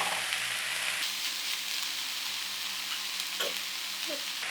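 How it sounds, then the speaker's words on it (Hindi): Minced mutton keema frying in a pan for samosa filling gives a steady, moderately quiet hiss and sizzle, with a few faint utensil touches near the end and no voices. "अब ये देखिए 5 मिनट मैंने इसे भून लिया है।"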